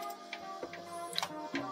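A sticker printer runs a test print, its print head shuttling with steady whirring tones, soft ticks and clicks, faint and close, with no talking.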